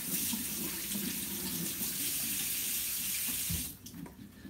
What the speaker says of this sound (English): wash this off real quick